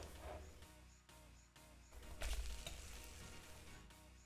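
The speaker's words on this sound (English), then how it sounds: "Something was sizzling, I thought I heard." Food sizzles and crackles in a hot pan, with a few metallic clinks and scrapes of a utensil stirring close by.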